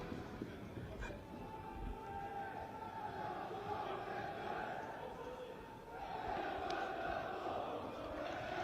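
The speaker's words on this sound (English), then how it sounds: "supported by a very, very lively away crowd here at Parkhall tonight" A lively away crowd of football supporters at Park Hall stadium keeps up continuous chanting and singing, a dense wash of many voices throughout that swells slightly toward the end.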